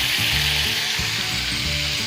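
Butter sizzles in a hot pan at the start of a spinach ravioli cream sauce, a steady close hiss that runs unbroken for about two seconds with no voices.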